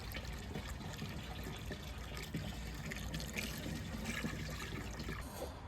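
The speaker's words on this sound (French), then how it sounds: "Répétez cette opération jusqu'à ce que l'eau qui s'écoule soit claire." Used coolant water drains steadily from a car's lower radiator hose during a cooling-system flush, a continuous close splashing trickle that holds an even level throughout.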